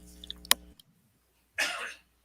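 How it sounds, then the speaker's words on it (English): A single short cough, close and fairly loud, follows a moment of quiet and a few faint clicks at the start. "I had to cough."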